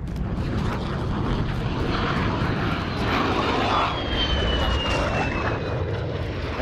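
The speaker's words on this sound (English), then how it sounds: "the fucking planes are so loud" Propeller aircraft drone low overhead in a video game battle, a loud, continuous engine roar that swells and fades slightly and fills the whole stretch, with a faint whine passing over it.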